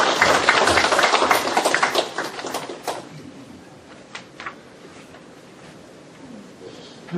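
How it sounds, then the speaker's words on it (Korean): An audience at a Thursday philosophy and humanities lecture forum applauds to welcome a lecturer. The clapping is brisk and fairly close for about three seconds, then quickly thins out to scattered claps and room noise. "큰 박수 부탁드립니다."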